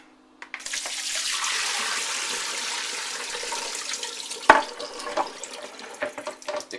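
Blanched spinach and ice water pour into a colander in a kitchen sink as a rushing, splashing stream for several seconds, ending in a sharp clatter and scattered drips.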